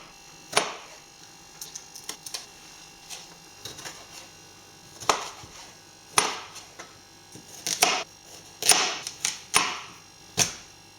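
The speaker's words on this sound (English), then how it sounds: "can't even cut a fucking piece of pita" A knife cuts through a piece of pita bread, sharp irregular crunching and tearing bursts close by with pauses between them over a faint background hum.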